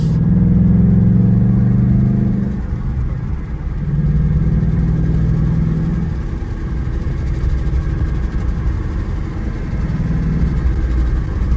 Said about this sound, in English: Now give a little gas.